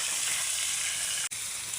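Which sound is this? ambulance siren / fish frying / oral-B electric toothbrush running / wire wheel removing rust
fish frying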